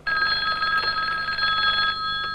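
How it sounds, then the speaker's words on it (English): A telephone rings in a 1986 ninja kids film, a steady continuous electronic bell tone filling the whole short moment with no talk over it. "Don't answer the phone."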